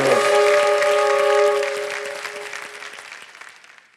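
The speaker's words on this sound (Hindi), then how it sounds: "तो एक बार फिर उनको हम ताली बजाते हैं और धन्यवाद देते हैं।" Studio audience applause for a contestant on the Hindi quiz show Kaun Banega Crorepati Season 15, a full burst of clapping over a sustained music chord that fades out over about four seconds.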